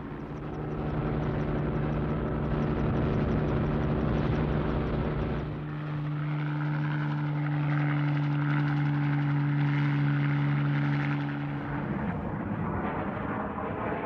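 A Westland Wessex anti-submarine helicopter of the Royal Australian Navy flies over the sea, a loud steady rotor and turbine roar with a sustained low hum that shifts partway through as it passes.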